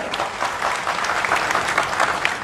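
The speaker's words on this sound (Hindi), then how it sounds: "मैं चाहता हूं कि बन्ना गुप्ता जी के लिए, स्वास्थ्य मंत्री के लिए एक बार जोरदार ताली बजाएं।" Audience applause for a health minister at a public event in India, dense and continuous clapping from a large crowd, loud and close with no talk over it.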